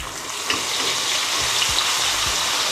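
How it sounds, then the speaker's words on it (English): Onions, peppers and red chillies fry in oil with a bright, steady hiss, with a few soft knocks and stirs in the pan, nearby and without voices. "In the oil, we're gonna fry some of these onions,"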